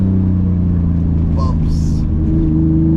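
Turbocharged BMW E34 making about 560 wheel horsepower pulls hard under boost, a loud, steady engine drone filling the cabin with a brief whoosh of turbo air partway through.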